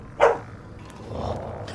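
A dog in the video game Skyrim lets out one sharp bark, followed by a low, rumbling growl, close and fairly loud over a quiet game background.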